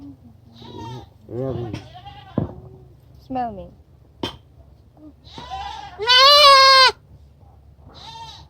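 A young goat kid bleats as people hold and rub it, with one loud, sustained, wavering bleat standing out among shorter calls, while someone talks close by throughout.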